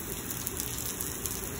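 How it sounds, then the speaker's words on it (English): Rain falling during a heavy thunderstorm in Lubbock, Texas, a steady, fairly faint wash of drops with no voices over it. "Tomorrow we might get this rain again."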